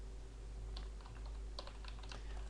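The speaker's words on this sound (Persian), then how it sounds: "پسوردم رو تایپ میکنم" Keys clatter on a computer keyboard as a password is typed, bursts of close, quiet clicks in short irregular runs over a steady low hum, with no voices.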